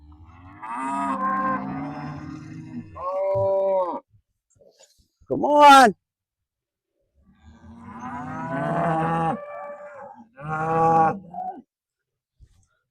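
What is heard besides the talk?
cows mooing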